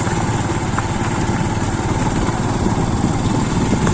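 A motorcycle carrying three riders labours along a very rough off-road track, its engine droning steadily and loudly throughout with a buzzy, uneven rattle and no talk over it.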